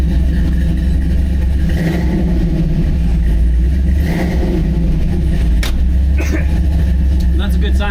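A Chevrolet C10's LS3 V8, still cold, revs loudly and close in a few sharp, snappy bursts over a rumbling idle, with clatter and a voice talking alongside.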